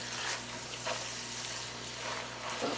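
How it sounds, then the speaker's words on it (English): Sausage with paprika and onion powder fries in a pan as it is stirred, a steady close sizzle with soft scraping stirs throughout and no talk. "So let's stir this all in. Get all of our sausage coated."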